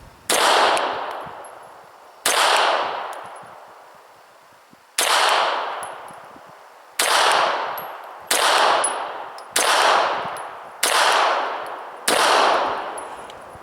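Eight sharp shots from a Kahr CW9 9mm pistol, each a loud crack with a long ringing decay, fired at an uneven pace that quickens toward the end, with no talking.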